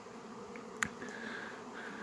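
A soft, continuous buzzing of honeybees hums close by, steady and faint, with one brief sharp click partway through, as bees clean leftover honey from hive frames.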